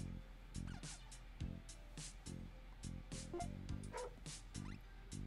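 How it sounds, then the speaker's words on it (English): A dog barks in the Teeny Titans video game, a rapid series of short yips and bow-wows repeating in an even rhythm, fairly faint and clean with no talk over it. "Aha, there's a dog."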